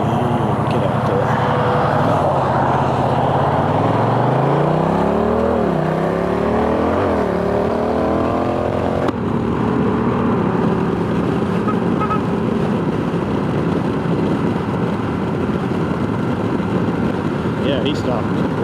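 A 2021 Honda Rebel 1100 motorcycle pulls out into traffic. Its engine revs up close and loud, climbing in pitch through a couple of gear changes, then settles into a steady drone with wind rush.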